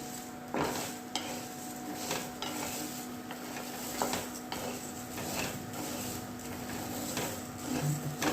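Urad dal being dry roasted in a kadhai on a gas stove, with a steady faint sizzle and repeated scraping and stirring strokes of a spatula against the pan, no talking.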